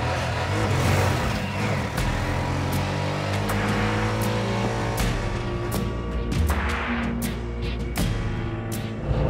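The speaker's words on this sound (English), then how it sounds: "driving a Qute on the racetrack." A Bajaj Qute quadricycle drives on a racetrack, its small engine droning and revving continuously from inside the cabin, loud and steady with shifting pitch and road rumble underneath.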